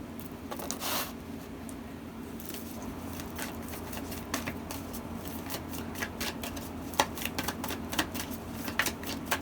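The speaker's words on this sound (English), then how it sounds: "so we're going to keep shuffling" Tarot cards are shuffled close up in quiet bursts of soft riffling and flicking, irregular taps and rustles over a low steady hum, with no speech.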